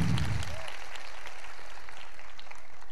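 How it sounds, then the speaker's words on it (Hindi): A church congregation at a Christmas service applauds in a steady wash of clapping heard at a slight distance, with a brief low voice at the start. "अगर बजानी है तो जोरदार तालियां पाक रूह की कुदरत के लिए"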